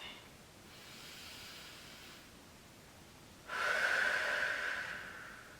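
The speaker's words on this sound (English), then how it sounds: "We're breathing in through our nose if possible, and really strongly out our mouth." Strong forceful exhale through the mouth during a beginner AeroPilates reformer workout, a soft breath followed by a louder, longer breathy rush of air, close and alone.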